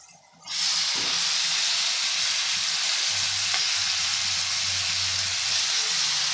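Mixed greens such as arai keerai, pasalai keerai and mulai keerai drop into a hot pan with sautéed ingredients, setting off a loud, steady sizzle and hiss that holds for several seconds with no talking.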